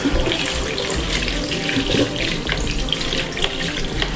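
A brand-new wrap-around ponytail, held cupped in the hand, is rinsed under a running tap in a sink, with a steady, close, continuous rush of water splashing over the hair.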